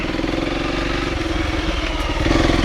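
A Honda CRF300L dual-sport motorcycle runs off-road on single track, its single-cylinder engine thumping steadily up close before rising slightly near the end, with no talking.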